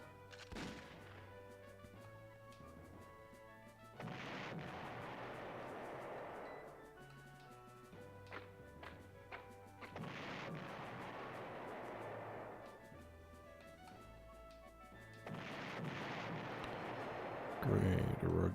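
Stuka dive bomber attacks in the retro strategy game Panzer General, repeated explosive bomb blasts recurring every few seconds amid game music, with someone talking underneath.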